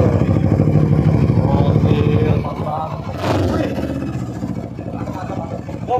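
A custom motorcycle engine runs loudly nearby in a garage, its throbbing revs rising and falling while people talk over it.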